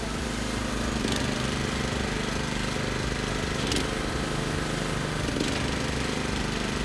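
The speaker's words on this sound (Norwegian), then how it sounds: "Når du kommer opp i 500 kiloen, så har han jo en 9-hester motor, og denne har jo hydraulske tipp i tillegg." A minidumper with a 9 hp engine and hydraulic tipping, rated for 500 kg payload, runs steadily and loud nearby, its small engine chugging with periodic clanks.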